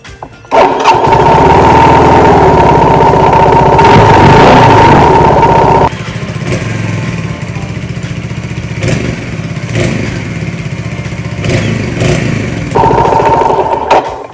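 A Mutt 250 motorcycle engine starts and runs, its loud, steady exhaust drone settling from a strong start into a rougher, slightly quieter idle with occasional blips, close by and alone.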